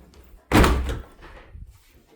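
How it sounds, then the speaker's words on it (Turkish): A home door pulled shut with a single loud slam-thud, followed by a short fading rumble and faint room noise. "kapıyı kapatayım da"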